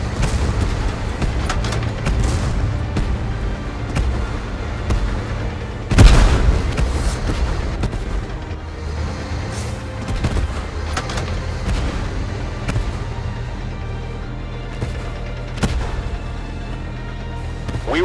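Video game battle under fire, with a continuous rumble of distant booms and gunfire and one heavier close explosion partway through, no voices over it.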